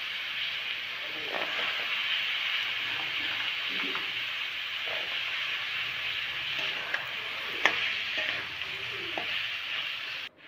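Tomato, eggplant, peas and green chilies frying in a pan, producing a steady close hiss of sizzling oil with soft stirring scrapes and one sharp clack of a spoon near the end.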